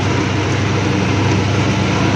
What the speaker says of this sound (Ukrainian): Куди хоче трактор, туди їде.